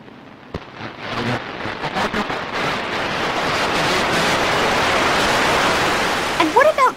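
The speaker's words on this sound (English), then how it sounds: "Bursts of energy called solar flares produce radio signals that reach Earth." A solar flare radio signal captured by an amateur astronomer's receiver: a broad, steady hiss of noise that swells and holds throughout, with faint sweeping chirps near the end.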